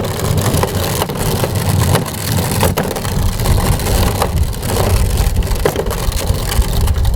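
The wheels of a heavy Mango Power E portable power station roll over a ground scattered with gumballs outdoors, making a continuous loud crunching and crackling with uneven snaps throughout.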